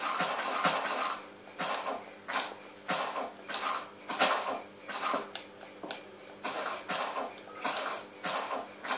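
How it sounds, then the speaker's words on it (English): Skeleton bones rattling in Minecraft: repeated dry clattering bursts, roughly two per second, close and fairly loud, with no talking over them. "Oh, I hear some skelly bones."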